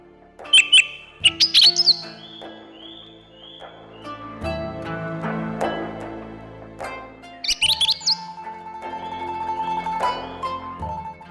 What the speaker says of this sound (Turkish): Kuş sesleri mi, tabii ki var.